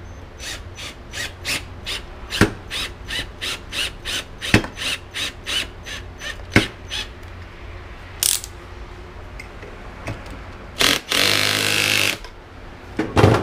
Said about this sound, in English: Now we're gonna screw that into the hole we just drilled.